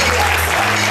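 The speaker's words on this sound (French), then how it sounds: "est-ce qu'on peut acclamer pour la gloire de Dieu?" A church congregation applauds and cheers in worship, a dense, steady wash of clapping that fills the whole moment at close range.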